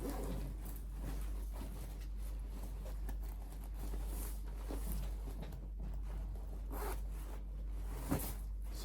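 A zipper on a skirt with an inbuilt corset slides in steady, soft rasping strokes for several seconds over a low constant hum, fairly faint and without speech.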